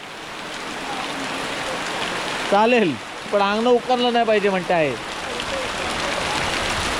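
Light drizzle patters steadily on a yard in Konkan as a soft, even hiss, while someone speaks briefly in the foreground over it.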